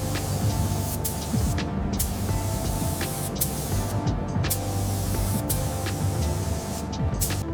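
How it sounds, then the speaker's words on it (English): High-build primer hisses from a spray gun onto the tank of a 1971 Triumph Trident T150, a steady close spray broken by several short pauses between passes. "We're laying down a smooth coat of high build primer now, ensuring even coverage across the whole tank before the base coat."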